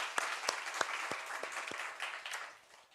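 Congregation applauding during a Korean New Year's Eve church worship service, a few distinct claps giving way to a dense, even patter of hand clapping that fades slightly toward the end.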